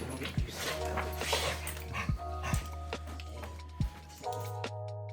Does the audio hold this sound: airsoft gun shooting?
no